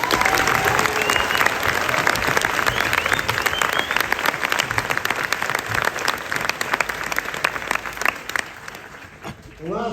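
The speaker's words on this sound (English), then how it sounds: "please join me in a round of applause for the 282nd" A crowd at an army basic training graduation ceremony breaks into loud, sustained applause with scattered cheers and voices, tapering off near the end.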